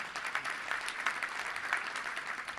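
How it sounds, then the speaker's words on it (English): An audience at a Little Rock Touchdown Club gathering claps in a continuous, moderately distant round of applause with no voices over it. "give them a round of applause"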